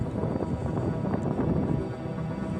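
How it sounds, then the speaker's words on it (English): Parrot Anafi drone flying outdoors on a windy day, a steady broadband whir and rush of rotors blended with gusting wind noise, continuous and fairly loud throughout with no talk. "Listening to my drone."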